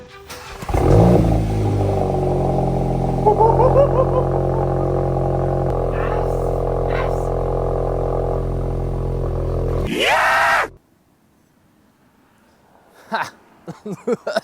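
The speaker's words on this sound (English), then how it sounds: "It's time to start the car up and hear it with an exhaust for the first time." A VW MK8 GTI fitted with an MBRP cat-back exhaust fires up with a sharp bark, then settles into a loud, deep idle with a couple of quick revs before shutting off abruptly; brief speech follows in the quiet.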